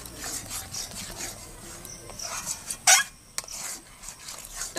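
A utensil scrapes and rubs against the bottom of a pot while thickened cow's milk cream is stirred to make ghee in a village kitchen, with irregular soft scraping strokes and one sharper metallic scrape.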